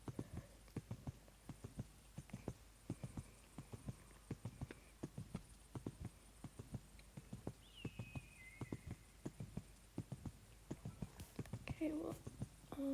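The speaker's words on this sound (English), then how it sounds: "Now we're gonna go into a collected canter." Horse hooves in a collected canter, a steady rhythmic thudding three-beat pattern, moderately close, with talk and a brief whinny-like sound near the end.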